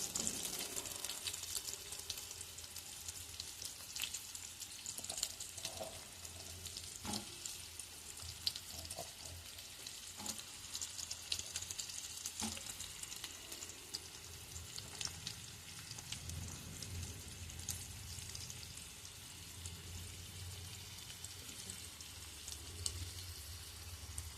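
Onions frying in oil in a pan while a stuffed dish is cooked, a steady dense sizzle with crackles and occasional stirring scrapes, close and continuous with no talk.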